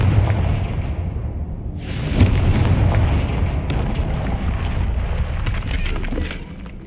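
A Confringo fire spell bursts in a Harry Potter video game, a loud booming explosion that rolls on with rumbling debris for several seconds, with no talk over it.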